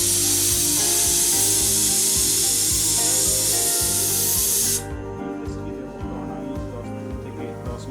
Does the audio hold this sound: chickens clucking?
no